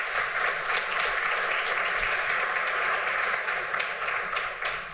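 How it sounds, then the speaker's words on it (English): An audience applauds steadily at a conference marking the Food Climate Research Network's 11th anniversary at the University of Oxford. The clapping is sustained and even from start to finish, with no talk over it. "let's give Tara another round of applause."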